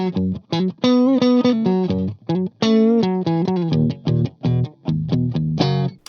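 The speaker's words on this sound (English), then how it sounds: "Now let's listen to the neck pickup." A Gibson electric guitar played through its P90 single-coil neck pickup on a clean tone, a run of distinct picked notes and chords ringing out loud and close with short gaps between phrases.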